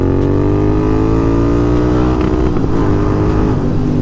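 A Royal Enfield Continental GT650 twin-cylinder motorcycle fitted with Red Rooster exhausts revs loudly and close up while riding, its engine note rising smoothly, then dipping and climbing again as it shifts.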